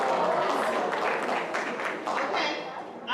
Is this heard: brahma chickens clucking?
no